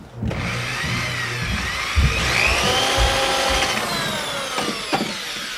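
A power drill bores through a wooden ceiling joist in a residential retrofit, a close, loud, steady whining grind with shifting pitch, a few knocks and bumps as the bit bites.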